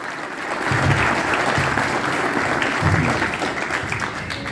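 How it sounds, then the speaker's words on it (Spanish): Sustained applause from an indoor crowd, dense and even clapping that holds steady throughout. "Un fuerte aplauso para Ricardo"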